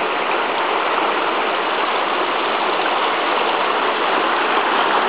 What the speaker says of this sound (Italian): Questo fiume è Carigiola, giusto?